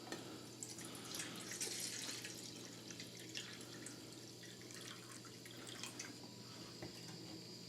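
Water runs and splashes steadily into a container, with faint drips and a low background hum throughout.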